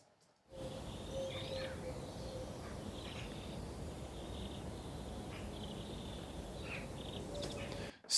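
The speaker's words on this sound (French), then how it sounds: "C'est des oiseaux très proches, dans une cour même." Close birdsong in a farm courtyard, with scattered chirps and calls over a continuous insect-like buzzing ambience, steady and fairly quiet throughout.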